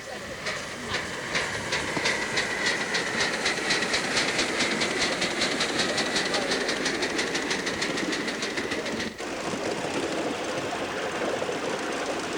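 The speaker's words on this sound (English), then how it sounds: "this delightful miniature railway, operated by the Buxton Model Engineer Society" Miniature railway train run by the Buxton Model Engineer Society, a steady rolling rumble with rapid rhythmic clicking and a hiss, heard from a moderate distance, with a sharp break near the end before the noise resumes.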